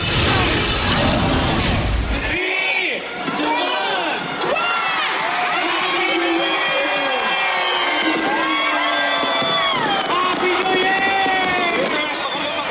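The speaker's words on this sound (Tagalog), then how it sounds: "nagliwanag ang kalangitan sa grandiosong fireworks display" Loud fireworks crackle and pop continuously while a large crowd cheers and whoops throughout at a New Year countdown, a dense wash of bursts and voices.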